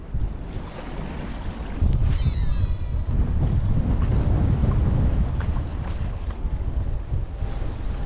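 Strong wind roars across Lake Perris while whitecap waves churn and slosh nearby, a loud, continuous buffeting rumble against the microphone that intensifies partway through.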